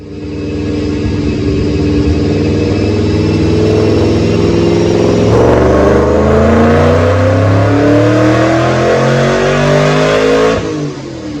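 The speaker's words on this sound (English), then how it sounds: "Check out this dyno pull." A 2006 Mustang with a Paxton supercharger and Detroit rocker camshafts roars through a full-throttle dyno pull, engine pitch climbing steadily, shifting once, then rising again in a loud, close, unbroken run before cutting off.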